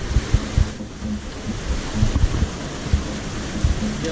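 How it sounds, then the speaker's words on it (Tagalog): Strong waves crash at Wawa Dam in Montalban, Rizal, a steady broadband wash of surf with low thumping surges and wind buffeting the microphone, continuous and fairly loud with no talking. "lakas ng alon"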